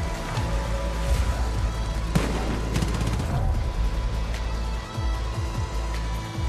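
Gunfire from the Far Cry New Dawn video game, a scatter of sharp shots and bursts over a steady background rumble, mid-distance and fairly loud, with no voices.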